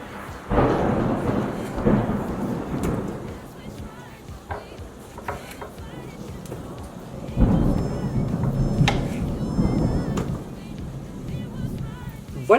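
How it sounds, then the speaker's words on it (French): Thunderstorm with heavy rain: a constant wash of rainfall with low, rolling rumbles of thunder swelling and fading, plus occasional sharper cracks and gusty wind noise. "vous allez même entendre l'orage"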